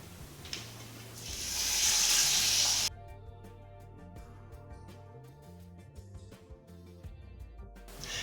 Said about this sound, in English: So I'm going to get my tilapia in and seared off.